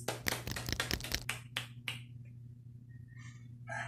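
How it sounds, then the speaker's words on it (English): Scattered classroom applause: a handful of sharp, uneven claps crowd the first second and a half, then thin to a few isolated claps before fading, leaving faint background noise. "Let's give them a round of applause."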